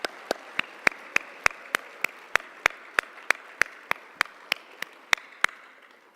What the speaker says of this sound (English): Could I hear a round of applause for Centennial Bank?